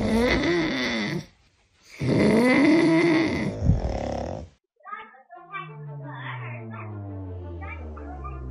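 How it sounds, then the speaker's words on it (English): A group of people snoring together like a choir, loud rough snores in two long bursts followed by lower droning snore tones with brief pauses between. "A new word in music, choir snoring."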